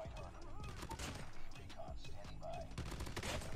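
Rapid automatic gunfire from a Damascus AGR rifle in the mobile shooter Call of Duty Mobile, bursts of shots cracking over each other with game effects and a faint voice underneath.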